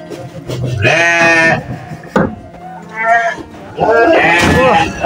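Goats bleating at a goat farm in Bogor, several loud, close, wavering bleats in bursts, with people talking in between.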